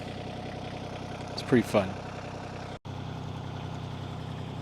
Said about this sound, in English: I can drive the tractor through it.